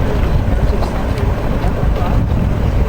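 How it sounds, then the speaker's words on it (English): Wooden boat with an almost double-ended hull and curved stem cruising at a boat show, a steady low engine rumble mixed with water and wind buffeting the microphone, continuous and close throughout. "Smooth, quiet engine."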